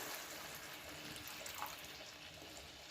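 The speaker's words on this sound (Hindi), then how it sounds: "एथिरे अल्प पानी दे देबा।" Water is poured in a small amount into a pan of curry masala with turmeric, cumin, chili, garam masala and coriander powders for an egg omelette curry, giving a steady, soft splashing hiss throughout.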